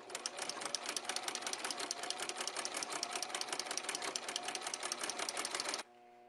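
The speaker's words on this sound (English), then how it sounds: "So I have it back on the machine, doing a ruffle every 1 stitch here." A sewing machine gathers fabric into a ruffle with a ruffler foot set to pleat every stitch, a rapid steady mechanical rattle close by that stops abruptly near the end, leaving a faint hum.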